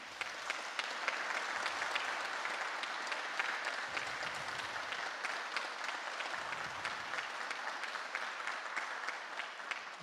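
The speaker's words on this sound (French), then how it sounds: "je pense que ça mérite une main d'applaudissement" Steady audience applause from a crowd at an interview event fills the whole stretch, dense and even, with no voices on top.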